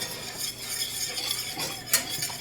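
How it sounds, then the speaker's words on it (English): Grits being whisked in a pot on the stove, a continuous quick metallic whisking and scraping with one brief sharper clink, close and moderately loud, no talk. "Whisk it in there till it's all really good."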